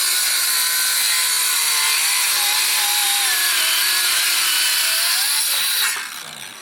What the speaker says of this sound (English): my saw doesn't go through it quite well. It's old wood.